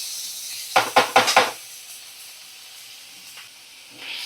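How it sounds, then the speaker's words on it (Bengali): Onions, tomatoes and green chillies dropped into a very hot karahi of oil: a quick burst of four loud crackling sizzles up close, then a softer steady hiss with a faint stir or clink later. "সমস্ত পেঁয়াজ, টমেটো আর কাঁচা লঙ্কা এগুলো আমি দেখো দিয়ে দিচ্ছি। একটু সুন্দর করে ভাজা ভাজা হবে।"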